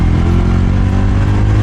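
A Jawa 42 motorcycle fitted with sports tyres pulls away hard, its engine a loud, dense, steady drone close by with a rough clattering edge and no voices.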